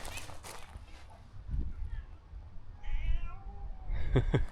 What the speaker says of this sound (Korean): 여기 숙소 앞에 있는 고양이들이네